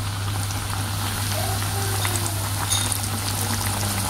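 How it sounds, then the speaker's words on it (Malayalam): Pieces of broasted chicken bubble and hiss in oil over a low flame, a dense, even frying sound close by, with a steady low hum beneath it. "ലോ ഫ്ലെയിമിൽ വെച്ചിട്ടാണ് നമുക്കിത് ഫ്രൈ ചെയ്തെടുക്കാം"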